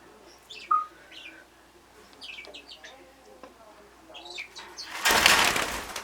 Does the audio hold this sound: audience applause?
no